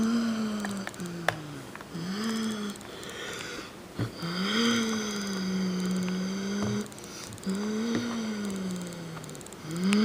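A 2005 BMW 530i engine and exhaust running, revving up and settling back several times in a steady cycle, with a smooth droning tone heard close and fairly loud.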